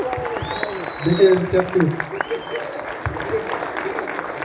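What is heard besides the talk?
audience applause at a film premiere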